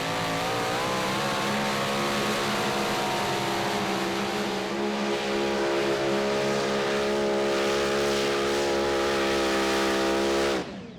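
A super stock pulling tractor engine roars steadily and loud at a tractor pull competition, a dense sustained drone that holds for about ten seconds before cutting off abruptly.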